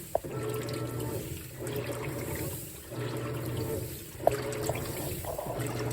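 A Whirlpool WTW4815EW1 top-load washing machine agitates through a wash cycle, with rhythmic swishing surges of water in repeating strokes about every second and a half, loud and close, broken by a couple of sharp clicks.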